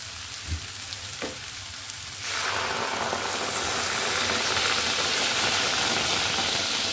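Coconut milk hits a fried spice paste that has released its oil, a quiet sizzle with a couple of clinks that jumps into a loud, steady, close bubbling hiss and keeps going, no talk.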